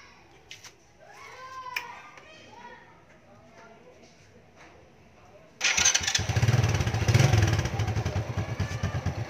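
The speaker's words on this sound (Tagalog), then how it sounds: "So, papaandarin ko yung motor." Quiet speech and light clatter give way to a motorcycle engine, fitted with a converted DC CDI ignition, starting abruptly and settling into a steady, loud idle nearby.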